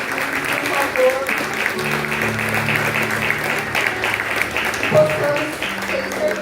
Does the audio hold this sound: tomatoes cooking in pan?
no